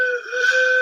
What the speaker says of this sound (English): this is another whistle